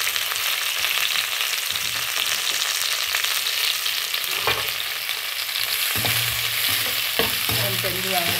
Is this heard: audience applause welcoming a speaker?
no